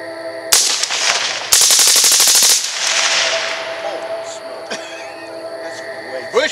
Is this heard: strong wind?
no